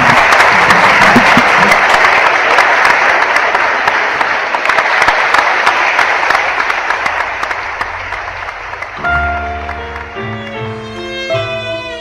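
Audience applause for a quintet on a Paco Godoy variety show: loud, dense clapping and crowd noise that tapers as sustained musical tones enter near the end.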